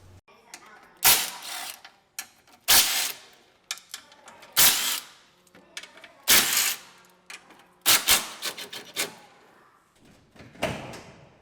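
Ratchet loosening the bumper bolts on a 2016+ Toyota Tacoma, heard as repeated bursts of clicking ratchet strokes with metallic clatter and pauses between them, fairly close.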